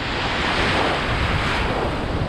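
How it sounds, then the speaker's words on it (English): Atlantic Ocean waves surge and break at Daytona Beach, Florida, a steady, loud roar of surf mixed with gusting wind buffeting the microphone, continuous throughout with no talking. "the waves shoot up in the air"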